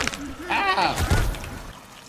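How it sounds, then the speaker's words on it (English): A cannibal's wet, choking death gurgle in the survival game Sons of the Forest, a short warbling burst of about a second, close and loud, with a player talking around it. "there it is. The death gurgle."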